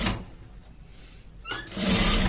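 A sewing machine stitches a shirt collar in two short runs with a pause between, sounding close and fairly loud.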